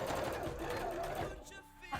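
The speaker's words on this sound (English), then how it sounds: "That's a top stitch, and that is, I think, the end of a bobbin." A sewing machine runs steadily, stitching a top stitch on a cosplay dress for a Re:Zero Emilia costume. The whirring is close and continuous for most of the stretch, then slows and falls quieter near the end.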